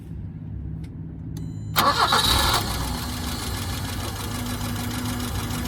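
A 1983 BMW 320i five-speed cranks briefly and catches with a sharp burst, then settles into a steady, moderately close idle.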